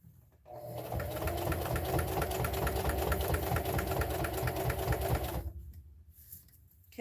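A sewing machine runs steadily while stitching a fabric mug rug, its fast even needle rhythm close and continuous for about five seconds before stopping abruptly into quiet.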